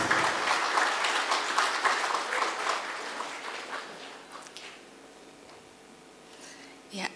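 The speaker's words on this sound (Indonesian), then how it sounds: "Kepada para peserta silakan memberikan aplaus." A seminar audience on narcotics law enforcement breaks into sustained applause, with dense clapping that fades gradually, and a few scattered claps follow near the end.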